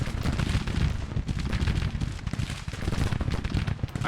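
Dense, continuous volleys of musket fire mixed with booming artillery in Grand Tactician: The Civil War, a loud, unbroken crackle and rumble of battle with no pauses.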